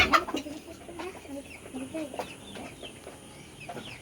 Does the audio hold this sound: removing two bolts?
no